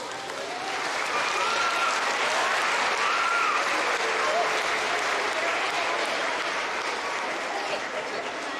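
Warm, sustained applause from an audience at an elementary school Veterans Day program, honoring students as outstanding OWLs; dense crowd clapping lasting several seconds with faint voices mixed in.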